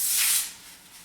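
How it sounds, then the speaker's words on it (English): A short, close burst of spray hissing from a can of Joico root lift volumizing hair foam, loud for half a second then fading to a soft hiss. "I have a root lift volumizing foam"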